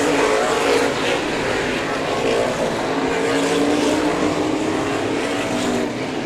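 A pack of open-wheel modified race cars roars around Showtime Speedway, with loud, continuous engine drone and overlapping revs swelling and fading as the cars pass close by.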